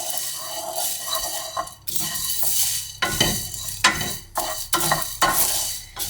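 A pan of Sri Lankan curry powder spices being stirred and dry-roasted until darker brown, with steady sizzling and repeated scraping strokes that swell and dip in rhythm, close and fairly loud with no talking.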